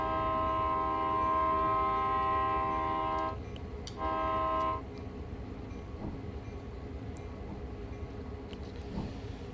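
A train passes through a station in Train Sim World 2020, its horn sounding a long, steady tone with a short second blast. The low rumble of the running train continues after the horn ends, with no talking.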